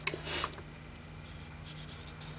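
A Spectrum Noir alcohol marker coloring on paper, a soft scratchy stroke at first followed by faint continuous rubbing, close and quiet.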